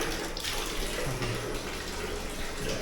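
Hot water runs steadily from a tap in a hotel bathroom, a close, continuous hiss and splash filling the whole stretch without pause.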